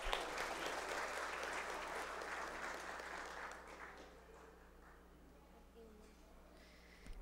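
Applause at a formal ceremonial session, a dense crowd clapping loudly at first and gradually thinning and fading over several seconds.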